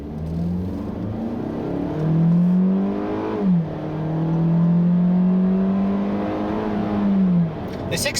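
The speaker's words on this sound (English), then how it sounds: "The 6-speed auto, surprisingly, shifts really well, smooth, goes about its business without much fuss." A 2017 Kia Forte S with a 6-speed automatic accelerates, its engine note climbing steadily in pitch and then dropping at two smooth upshifts before rising again, a clear, moderately loud in-cabin drone.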